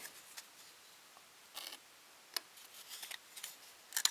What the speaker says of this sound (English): let me go ahead and cut off some more pieces